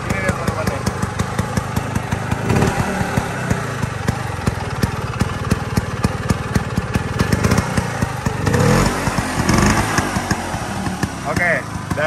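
A Vespa GS scooter engine runs steadily at idle with a fast, regular put-put pulse and a brief revving rise near the end, while a person talks over it.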